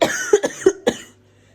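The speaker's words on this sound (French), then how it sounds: "vous avez l'exemple de tousser ça pendant des heures et des heures" A child coughs in a hospital emergency room: four harsh, close coughs in quick succession over about a second, then quiet.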